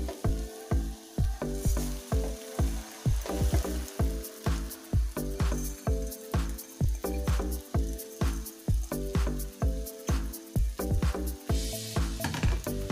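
Rice sizzles in oil with spices in a pan for khichuri, stirred in a steady rhythm of repeated scraping strokes with a continuous frying hiss, close and fairly loud.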